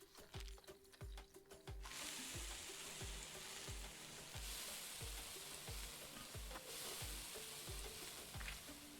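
Onions frying in a cooking video game, a steady loud sizzle running throughout, with a regular low thumping beat underneath from background music and quieter clicky texture at the start before the sizzle swells.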